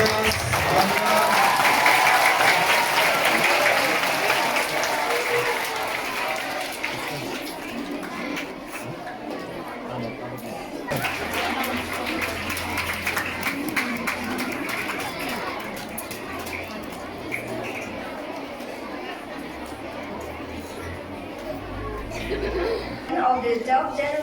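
Audience applause at a school ceremony honouring the top ten SSLC exam rank holders at Sacred Heart Girls HSS, sustained clapping filling the space with crowd chatter and speech mixed in.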